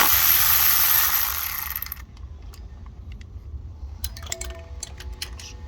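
A ratchet works a 12 mm bolt loose during starter replacement on a Lexus SC430. A burst of broadband noise fades, followed by quiet, sparse metallic clicks and light tool clatter close by.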